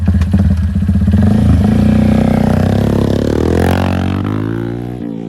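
A racing motorcycle worth about 14 lakh rupees is ridden nearby. Its engine revs and rises in pitch, then settles and fades slightly as it pulls away, loud and close.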